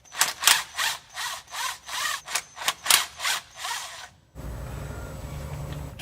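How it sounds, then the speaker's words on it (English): Bolts on a transmission filter being loosened with a T20 torque socket on a ratchet, a run of about ten quick, close ratcheting bursts in steady rhythm, followed by a low hum of background noise. "this is held in by 2 bolts that are going to require a T20 torque socket to remove"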